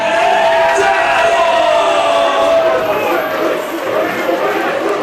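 Loud, dense crowd roar at a Midwest wrestling show for Maddog McDowell, steady and excited throughout with whoops and shouts mixed in, and an announcer's voice running over it.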